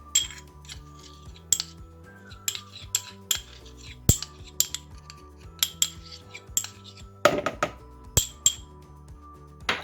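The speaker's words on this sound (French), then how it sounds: "je vais bien gratter le fond pour récupérer tout le sirop" A utensil scrapes and taps against the bottom of a container to collect the last of some agave syrup, producing irregular close clinks and scrapes with no talking.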